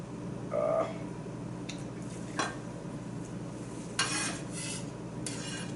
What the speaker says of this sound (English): And I'm cutting these, I'm making my slices about 1/4 of an inch apart.